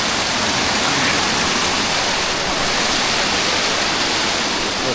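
A small waterfall on a trekking trail toward Dudhkunda Lake in Solukhumbu gives a steady, loud, broadband rush of falling water that holds constant and close throughout, with no voices.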